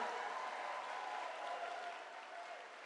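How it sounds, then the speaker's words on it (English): Town hall audience in Bedford, Pennsylvania applauding steadily, a dense wash of clapping that holds at an even, moderately loud level throughout before easing slightly at the end. "Let's give another round of applause to Tulsi Gabbard."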